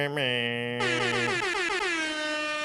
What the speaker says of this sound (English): we got to do another air horn for that one.